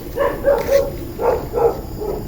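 Several dogs bark in short bursts, a few quick yips followed by more barks, fairly close and moderately loud, with no talking.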